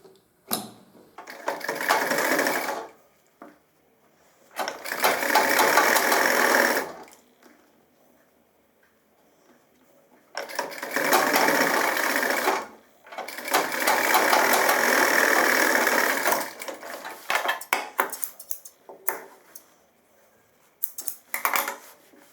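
A sewing machine stitches a trouser pocket in several bursts of fast, steady whirring, each lasting a couple of seconds or more, separated by near-silent pauses and a few short stitch runs.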